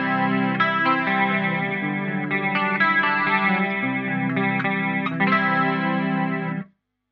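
Electric guitar through an Eventide H90 Tri-Stereo Chorus with detune added, a thick shimmering chord passage ringing steadily and loud for several seconds before stopping abruptly, no voices.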